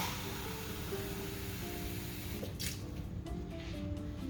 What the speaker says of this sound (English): Now we're just going to add a little water to this.